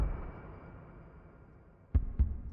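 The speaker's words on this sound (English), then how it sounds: "And made a heartbeat just out of some kicks and stuff." After a low, hazy drone, two deep thumping beats land close together like a heartbeat, built from kick drums in FL Studio.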